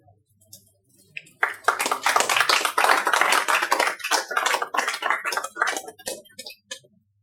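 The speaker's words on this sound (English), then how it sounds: "I think we can all give a warm round of applause to our" Audience applause at a professional talk, a burst of dense hand clapping from a room of people that swells quickly, holds for several seconds, then tapers off.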